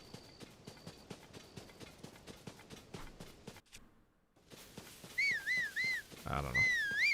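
Rhythmic clip-clop of horse hooves in the video game Tears of the Kingdom, steady trotting for several seconds, a brief pause, then game music with whistling tones over more movement.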